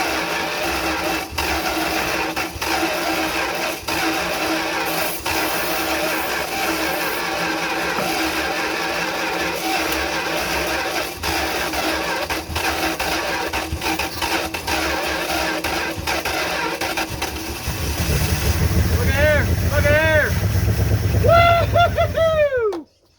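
A 1971 Dodge D100 pickup, abandoned for decades, with low compression and carb cleaner added, cranks in a long steady drone, then its engine catches and runs rougher and louder near the end before cutting off abruptly.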